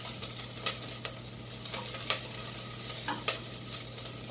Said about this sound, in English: So we've got our onions cooking